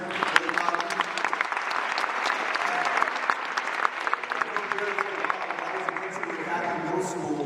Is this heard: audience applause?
yes